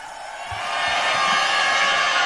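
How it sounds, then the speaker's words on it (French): An audience at an official civil wedding ceremony for police and military officers breaks into sustained applause and cheering, a dense, steady roar of clapping that swells and holds throughout. "Junior Mata Malenga, sous vos applaudissements, s'il vous plaît."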